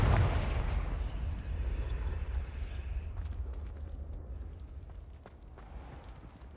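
Fiery Confringo spell explosion in Hogwarts Legacy, a deep rumbling burst that rolls out and slowly fades into a low, sustained background roar.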